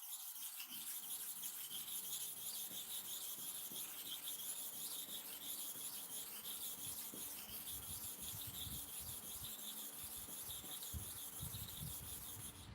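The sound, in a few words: clipper blade being sharpened by rubbing, with kerosene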